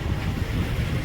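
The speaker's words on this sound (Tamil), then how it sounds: "கிட்ட போக போக கடலோட அந்த கடல் காற்று ரொம்ப வீச ஆரம்பிச்சிச்சுங்க." Strong sea wind at Poompuhar beach blows steadily into the microphone as a dense, rumbling roar, with no talk.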